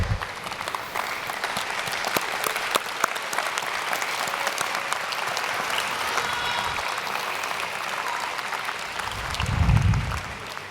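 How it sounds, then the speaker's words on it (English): Graduates at a 2024 commencement ceremony give their families a long round of applause, dense continuous clapping from a large crowd lasting about ten seconds, with a low thump near the end. "give them another round of applause for hanging in there with you also"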